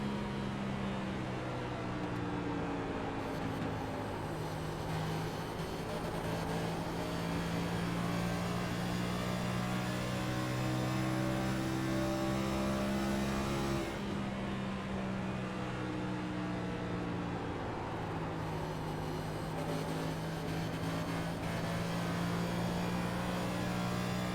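Race cars at speed at Nashville Superspeedway make a continuous engine drone with layered tones whose pitch rises and falls, shifting noticeably midway, with no talking.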